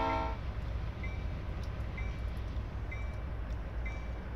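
Train rumbling steadily along the Miami to West Palm Beach line in a train simulator game, a constant low drone with faint brief tones recurring at regular intervals.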